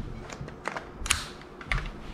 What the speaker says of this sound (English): Pulling back the bolt reveals a version 3 gearbox.